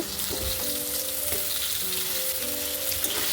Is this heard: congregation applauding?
no